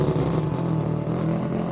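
A triple-rotor rotary-engined race car pulls out of the pit lane at a North Island endurance race, its loud, steady buzzing engine note sustained and close throughout with no talk over it.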